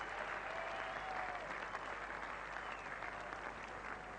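A cricket crowd at a 1987 England versus Pakistan test applauds a shot around the ground, steady distant clapping that holds throughout with no talk.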